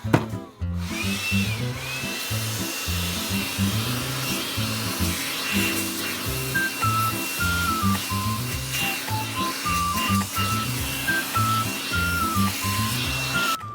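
A portable air blower used for cleaning at a winter campsite runs with a steady, pulsing motor whir, close and continuous, while faint beeping tones sound over it.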